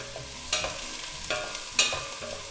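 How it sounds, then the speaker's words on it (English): Onion sizzling in a pan while being stirred, with three distinct scraping strokes of the utensil over a soft, steady fry. "Onion in. Give that a stir."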